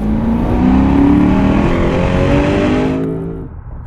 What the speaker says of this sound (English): The exhaust note is also way more civilized.